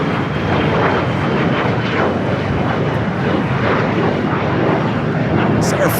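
An Air France jet airliner departing LAX airport roars loudly and steadily at close range, a broad constant engine rumble with no pauses.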